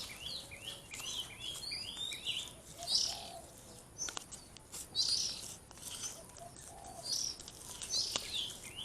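Baby oriental magpie-robin chicks chirp while being hand-fed, giving repeated bursts of shrill, high begging calls every second or two. The calls sound close but fairly soft over a faint background hiss, with no voices.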